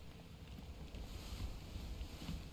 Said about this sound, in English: Oh wow, it is raining.